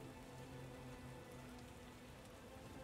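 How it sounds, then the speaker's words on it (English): Rain falls steadily in The Witcher video game, a constant even hiss of drops on surfaces with no speech. "they acknowledge out loud that it's raining"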